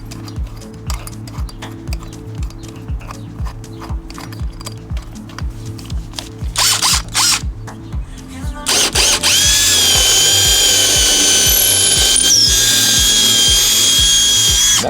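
A power drill bores out and widens a 5/16-inch hole in a dinghy transom for launch wheels, starting with intermittent bursts over a low hum, then running in a loud, sustained whine.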